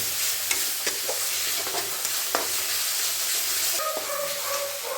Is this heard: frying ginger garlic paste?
yes